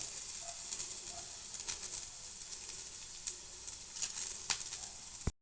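Onions sizzle and fry in a pan, a soft continuous crackle with a few sharper pops, faint and close, ending abruptly.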